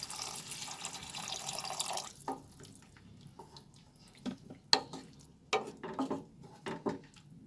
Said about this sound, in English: now I will add half a cup of water